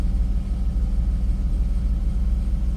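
A 1995 BMW E36 M3 with the S50 straight-six engine idles steadily after warming up, a close, continuous low rumble with an even pulsing throb and no voices.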